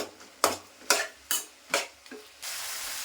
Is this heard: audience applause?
no